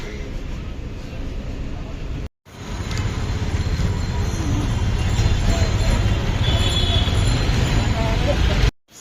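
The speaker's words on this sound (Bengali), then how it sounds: "সিলেট যাচ্ছি ট্রেনে" A passenger train to Sylhet, Bangladesh, rumbles along the rails, heard from inside a carriage as a loud, steady low roar with a rattling clatter, briefly cut off once before resuming.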